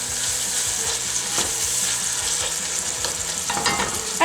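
Onions fry in a pan for a ratatouille, giving a loud, steady, close sizzle with occasional stirring scrapes throughout and no voices.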